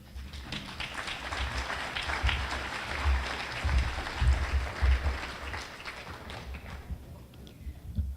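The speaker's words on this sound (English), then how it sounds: "thank you for your warm applause" An audience at a climate leadership event applauds after an introduction, a sustained wash of clapping that swells, then thins out toward the end, moderately distant in the hall.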